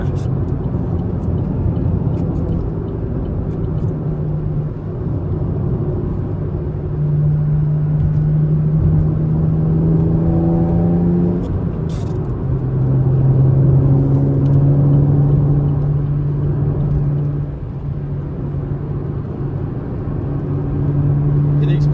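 A 2013 Chevy Camaro's engine runs steadily with a low, shifting drone as the car pulls away and moves through gears, loud and close, while people talk inside the cabin.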